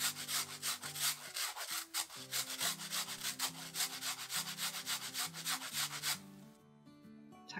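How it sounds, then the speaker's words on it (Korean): Daikon radish is grated by hand in a steady back-and-forth rasping rhythm, close and clear, for several seconds before stopping, with no talk. "이세계 식당은 일본식대로 무를 갈았을 거라 생각하고 무를 갈아줄게요."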